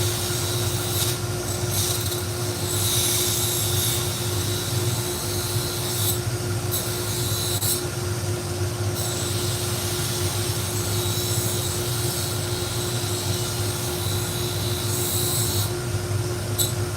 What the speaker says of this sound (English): I just polished this up on my Scotch-Brite pad